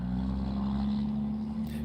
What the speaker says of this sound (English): Jacked up pickup truck. Diesel. Left a big old black cloud of smoke.